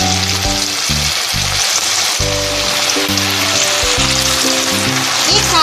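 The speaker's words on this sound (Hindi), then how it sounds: "इसमें हम पकौड़े डाल देंगे।" Sago vadas deep-frying in hot oil give a loud, steady, dense sizzle with a bubbling crackle that runs unbroken throughout, with no voices.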